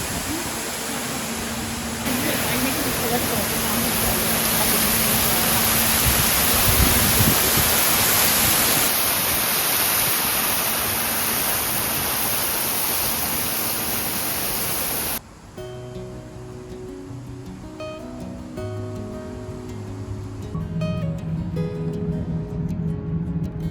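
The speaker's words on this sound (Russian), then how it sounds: "видим, что водопад – это гигантский душ" An indoor waterfall in a Winnipeg tropical greenhouse pours as a loud, steady broadband rush for most of the stretch, then drops away abruptly to quieter ambience with faint tonal sounds.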